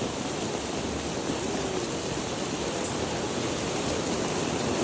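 Hail pours down in Greece in a dense, steady hiss of countless tiny impacts, continuous and even throughout with no voices.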